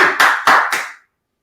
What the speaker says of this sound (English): Clap it up for my guy, Coach Hill.